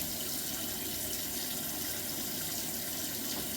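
Hot water running steadily from a bathroom tap, a constant soft hiss and splash with no voices.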